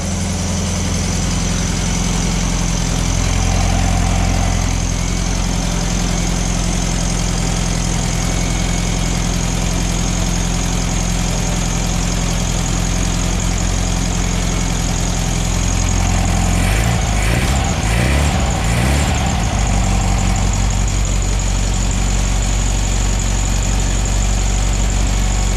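1968 VW Beetle air-cooled engine idling on a new aftermarket carburetor, a loud, close, steady low rumble with a brief burst of throttle blips partway through before settling back to idle.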